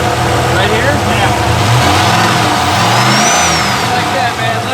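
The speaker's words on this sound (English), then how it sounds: "You gotta feel the power right from the engine." A 1000-horsepower turbocharged Trans Am WS6 revs loudly and close by, its engine roaring steadily with rising and falling pitch for several seconds, while voices talk over it.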